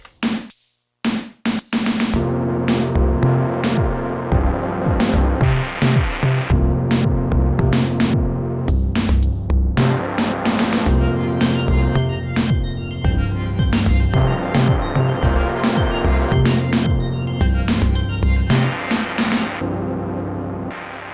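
A clean Elektron Analog Four MKII synthesizer pattern repeats steadily with throbbing, buzzy tones and a pulsing rhythm, loud and alone with no effects, after a few short opening stabs.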